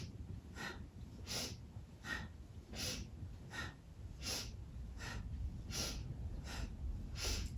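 Rhythmic breathing during a yoga spinal twist in a kriya practice, with about a dozen strong, evenly spaced breaths alternating inhale and exhale, close and loud over a low background hum.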